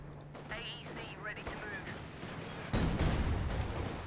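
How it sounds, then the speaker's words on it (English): Bazooka fire and explosions in the World War II strategy game Company of Heroes 2, with a voice talking early on before a loud, sudden blast bursts in near the end and sustains. "Got bazooka fire there against the force."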